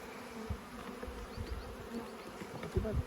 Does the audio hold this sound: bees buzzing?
yes